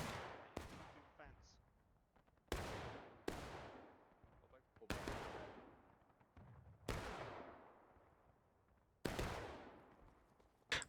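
Revolver shots fire in a video game, about seven loud, sharp cracks spaced unevenly a second or two apart, each trailing off in a long, echoing decay.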